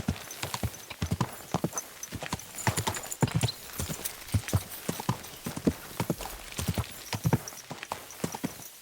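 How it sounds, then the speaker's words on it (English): Horse hooves clip-clop in the video game Kingdom Come Deliverance 2, a brisk, regular stream of close hollow knocks at a steady trot that carries through the whole stretch. "just casually cruising around with our horsey"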